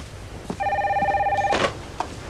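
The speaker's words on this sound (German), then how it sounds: "Ein Glück, es klingelt." A telephone bell rings in a German-dubbed Santa Barbara soap scene: one steady, harmonic trill of about a second, with rapid pulsing, heard close and clear between short thuds and background noise.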